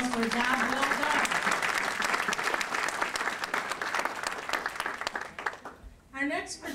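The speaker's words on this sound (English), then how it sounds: "Let's give another round of applause for a job well done." An audience applauds a presenter with sustained loud clapping and some cheering, overlaid by a voice speaking, before the clapping dies away and speech continues.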